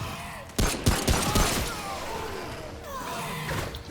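Gunfire in the video game Remnant: From the Ashes: a burst of several sharp, loud shots close together near the start, then a lower rumbling wash of combat noise fading out.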